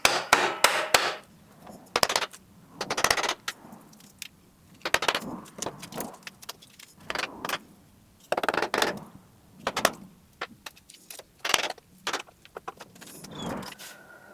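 Old tenon being knocked out of an antique chair mortise, heard as a series of sharp, close percussive strikes in irregular bursts with short pauses between, loud against a quiet room.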